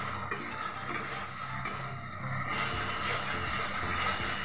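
Masala sautés in oil in a pan for a Bengali fish kaliya, giving a soft continuous sizzle with scraping stirs, close and fairly quiet, with no voices.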